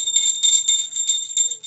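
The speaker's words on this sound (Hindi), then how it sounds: "घंटी बजा रहे हैं।" A small hand bell rung during a home puja, ringing close and clear in rapid, steady repeated strokes with a bright metallic tone, alone without talk.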